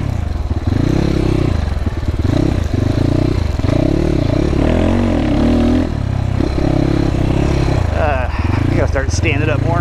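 A GPX FSE300R motorcycle with Delphi EFI runs close by, its engine rumbling loudly and changing pitch over and over, while someone talks throughout.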